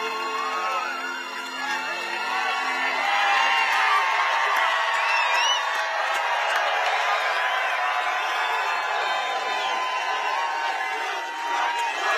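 Large outdoor crowd cheering and whooping at the US 250th anniversary celebration, a dense sustained roar that swells and holds for several seconds.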